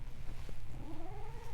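A pet cat lying on its owner's lap makes a soft, rising chirping meow, close and fairly quiet, over a low rumbling purr and background noise.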